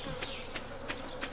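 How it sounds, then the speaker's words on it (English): Insect-like bee buzzing from the video game Stardew Valley, played on a forest map: a continuous drone that swells into three or four short, evenly spaced pulses over a steady ambient bed, with no talk. "There's those bee sounds again."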